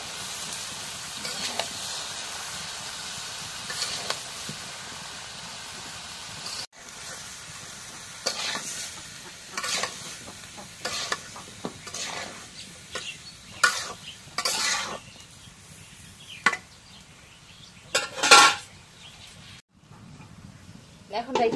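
A potato and eggplant curry is stirred in a hot pan, with sizzling broken by repeated scraping and clinking strokes of a spoon, while someone talks over it.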